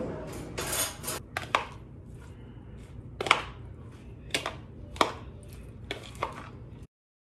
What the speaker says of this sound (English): I am going to spread a little bit of this lemon dill hummus on there